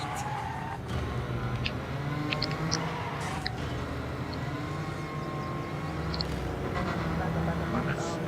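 A car driven up to near top speed, its engine droning steadily under broad, continuous road and wind noise that fills the whole stretch, loud and close from inside the cabin.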